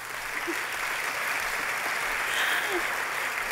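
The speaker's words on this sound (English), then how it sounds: "Thank you for the applause" A steady wash of applause from a large crowd fills the whole stretch, dense and sustained without letting up.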